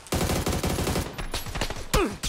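Gunfire in the PUBG video game on the Miramar map: rapid bursts of automatic shots crackle densely through most of the stretch, loud and close, with a few sharper separate reports near the end.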